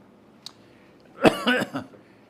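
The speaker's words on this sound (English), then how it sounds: "You'll have to excuse me, my cough." A single short, harsh cough close by, preceded by a faint click, then silence.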